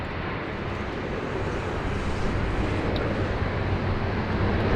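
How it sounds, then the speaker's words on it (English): A Flying Doctors aircraft touches down on runway 16 right at Sydney Airport, heard from a distance as a steady, broad engine roar mixed with wind noise, with no one talking. "He's one of our flying doctors, touching down there on 16 right."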